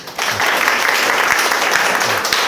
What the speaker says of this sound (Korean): 두 분한테 박수 한번 쳐주실까요?